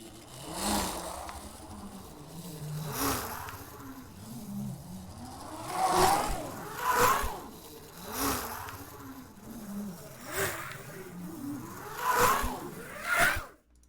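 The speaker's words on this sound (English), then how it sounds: "I did a bunch of layers of all of the Lego car passes with different pitches and different, which basically made them shorter and faster" Layered Lego car pass samples pitched up and shortened, stacking into a rapid run of buzzing whooshes that swell and fade every second or so, like race cars zipping past, fairly faint throughout.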